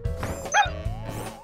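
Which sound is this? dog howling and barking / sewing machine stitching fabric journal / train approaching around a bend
dog howling and barking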